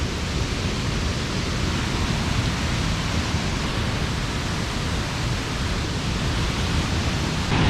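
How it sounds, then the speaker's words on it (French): Waterfall cascades on Réunion Island, heard as a steady, dense roar of falling water that stays constant and loud throughout with no voices. "Ah, il y en a une là aussi dans le bas des cascades. C'est pour ça que ça fait autant de bruit."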